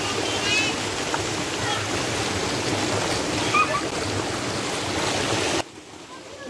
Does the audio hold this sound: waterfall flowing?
yes